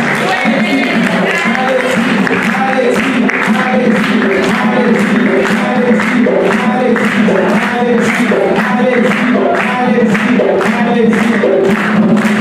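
A crowd at a live children's challenge event in Paris applauds steadily for a child, the clapping thick and sustained under loud music with a pulsing beat and some voices.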